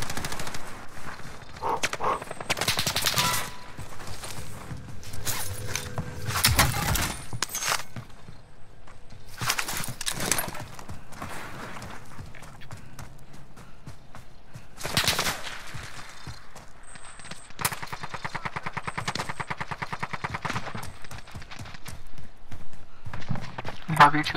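Video game gunfire, including sniper shots, comes as repeated sharp cracks and bursts scattered across the stretch, some in rapid clusters, with footsteps and excited voices talking over them.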